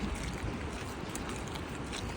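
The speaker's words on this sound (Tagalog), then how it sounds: "Malakas yung tubig." Strong, fast-flowing water rushing steadily, a dense continuous roar heard up close for a couple of seconds with no talking.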